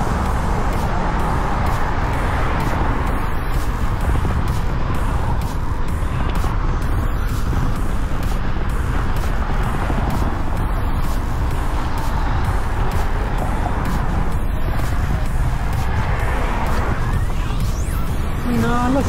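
A continuous, loud roar of heavy road traffic fills the scene, with cars and trucks passing nearby on a busy weekend street and faint voices in the mix.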